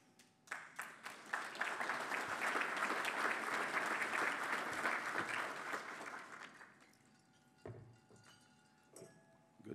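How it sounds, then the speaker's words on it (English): Applause from the audience at the 2021 Cayman Chamber Legislative Luncheon swells from scattered claps into a dense, steady roar of many hands, then thins out into a few lingering claps and quiet room noise. "Good timing on the applause"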